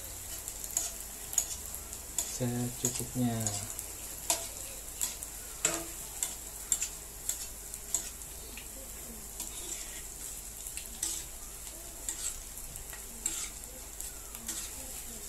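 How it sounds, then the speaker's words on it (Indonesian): A snack frying in a pan for a healthy Indonesian fasting-break treat: a soft, steady sizzle with repeated stirring scrapes and clinks, a brief louder splash of frying early on, and occasional quiet talking. "Kita goreng"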